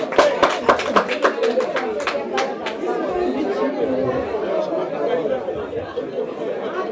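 Audience clapping at a youth solidarity association's investiture meeting in Paris, with a burst of sharp claps at the start thinning out as crowd chatter takes over and continues underneath.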